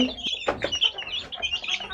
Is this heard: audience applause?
no